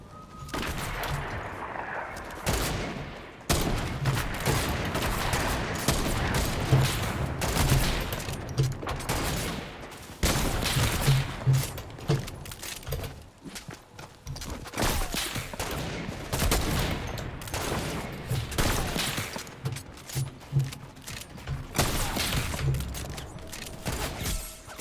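Rapid bursts of semi-automatic gunfire from a first-person shooter video game fill the whole stretch, loud and dense, with repeated shots and brief gaps but no talking.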